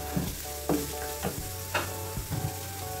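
Chopped tomatoes sauté in a hot pan in a home kitchen in Yangon, with a steady close sizzle of frying and a few soft scrapes and stirring knocks throughout.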